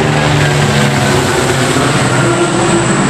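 A helicopter sound effect, a loud, steady, droning mechanical roar with a low rumble, continuous throughout and with no talking.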